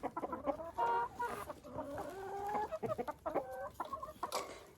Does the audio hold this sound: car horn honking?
no